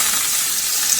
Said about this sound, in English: I'm gonna melt the butter here.